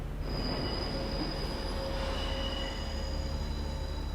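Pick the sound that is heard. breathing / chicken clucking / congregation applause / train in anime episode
train in anime episode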